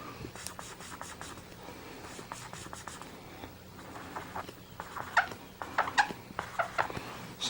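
A pen or marker drawing a number by hand on paper, with close, quick scratchy strokes and taps that grow busier toward the end, and no voices.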